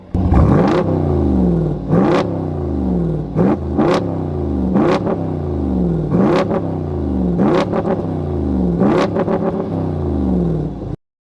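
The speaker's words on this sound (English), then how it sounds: "the beautiful exhaust note you've been listening to this whole video is made possible by AEV" A Jeep Wrangler 392 V8 with an AEV exhaust revs repeatedly in loud bursts, each blip rising and falling over a steady burbling idle, about eight revs in all.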